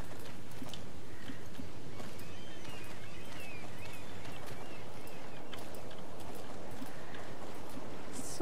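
Steady clip-clop of horse hooves walking at an even pace in the video game Star Stable, moderately loud over a soft ambient background, with no talking.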